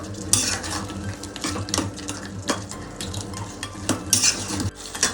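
Spice masala for a Bengali prawn malai curry is stir-fried with a little water in a pan, with a spoon scraping and clinking repeatedly against the metal over a soft sizzle, close and fairly busy, no talking.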